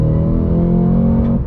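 A 2025 Cadillac CT5-V Blackwing engine revs loudly and steadily at close range, a dense sustained roar with strong low harmonics and no talk over it.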